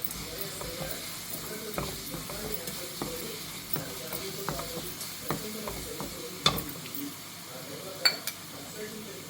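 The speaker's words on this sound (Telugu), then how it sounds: "పసుపు వేసుకుని కారం కూడా 2 స్పూన్లు కారం ఫుల్గా వేసుకుని ఫ్రై చేసుకోవాలి." Turmeric and chili powder frying in oil in a pan for a fish curry, with a soft steady sizzle under intermittent stirring clinks and scrapes of a spoon against the pan, close by.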